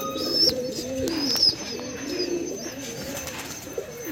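Roller pigeons cooing close by, a run of soft rolling coos with a few sharper high chirps, fairly quiet with no talk over them.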